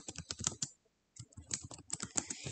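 Keystrokes on a computer keyboard while entering a task in a to-do app, quick clustered taps with a short pause mid-way, close and clear with no talking.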